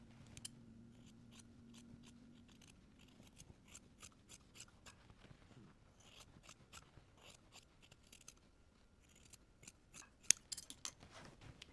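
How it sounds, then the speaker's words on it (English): Scissors trim the rounded edge of an interfaced fabric cuff with a run of quick, faint, close snips against a quiet background. "On our interfaced cuff, we're going to trim 1/8 of an inch or 3 millimeters along this rounded edge"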